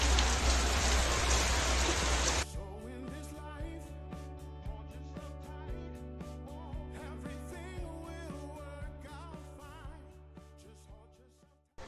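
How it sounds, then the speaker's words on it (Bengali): Steady rain falls on a wet day before a family heads out by auto-rickshaw; a loud broadband wash of rain opens the clip for about two seconds, then fades under a steady tonal background for the rest. "আজকে আবার বৃষ্টি পড়ছে"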